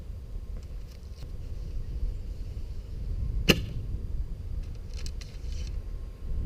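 A single sharp snap of a Martin Jaguar Elite traditional recurve bow releasing an arrow, one crisp transient over steady outdoor wind and background noise.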